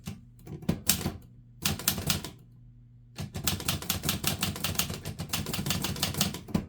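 Keys strike on an Olivetti Lettera 32 manual typewriter in quick clattering bursts, two short runs separated by brief pauses, then a longer steady stretch of rapid typing, close and crisp.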